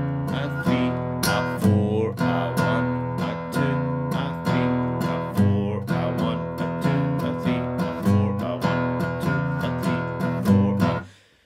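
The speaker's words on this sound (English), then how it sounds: "Now we're playing a 12 bar blues and each bar has a count of 4 in it," Electric or acoustic guitar playing a steady 12-bar blues shuffle with a swung rhythm, repeated plucked chord strums at an even pace, loud and close, ending with a sudden cutoff.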